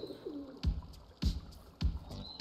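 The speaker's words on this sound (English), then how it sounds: "a caffeinated pigeon is definitely something new" Pigeon coos from the video game Espresso Tycoon, a few soft low calls near the start, then several sharp thumps recurring at a steady interval.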